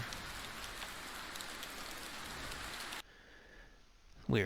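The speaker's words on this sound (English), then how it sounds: "It's pouring down rain." Heavy rain pours down in the video game Medieval Dynasty, a steady hiss of falling water across the first few seconds, then dropping abruptly to a quieter patter before a brief louder sound at the end.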